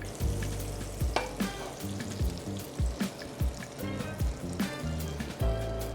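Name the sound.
bread toasting in butter over a fire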